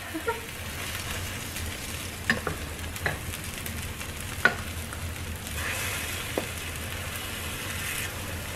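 Tuna patties fry in a pan over medium-high heat with a steady, close sizzle and hiss, broken by a few soft taps and scrapes from the pan.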